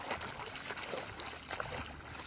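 Laundry being rinsed by hand in a basin of water, with close sloshing, splashing and trickling, moderately loud and without speech.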